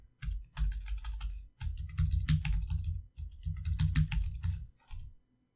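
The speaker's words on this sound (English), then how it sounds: "You have to put your password in one time." Rapid keystrokes on a computer keyboard as a password is entered on a Windows 10 machine, several close, clicky bursts of typing separated by short pauses, with no talking.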